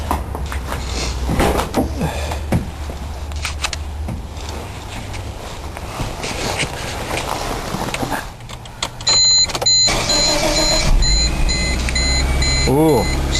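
A 1999 Chevy Metro engine turns over and settles into a steady running note just after a spark plug change, a few beeps mixed in, heard close up after a stretch of background noise and talk.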